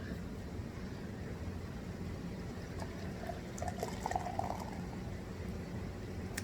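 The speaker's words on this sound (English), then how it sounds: "pours like normal beer" Beer pouring from an oversized can into a glass, a steady soft fizzing wash with brighter splashy gurgles building near the end, at low level throughout.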